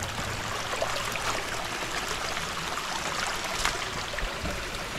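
A stream flows in a constant, even rush of water, close by and unbroken from start to finish, with no talking.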